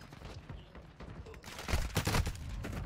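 Gunfire in a first-person shooter game, scattered shots early then a denser burst of rapid automatic fire over a battlefield background.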